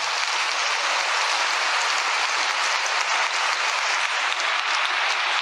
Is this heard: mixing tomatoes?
no